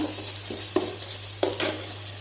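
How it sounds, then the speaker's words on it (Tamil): Ginger garlic paste lightly sautéed in a pan, a soft sizzle under a few distinct stirring scrapes and knocks of a spoon, close and fairly quiet. "நம்ம இப்போ வந்து இஞ்சி பூண்டு பேஸ்ட் போட்டுட்டோம். கொஞ்சம் லைட்டாக வதக்கிக்கலாம்"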